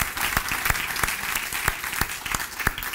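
A church congregation bursts into loud applause, dense continuous clapping with a few sharper individual claps standing out, sustained through the whole short stretch.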